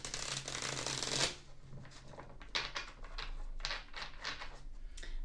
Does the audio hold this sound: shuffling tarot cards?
yes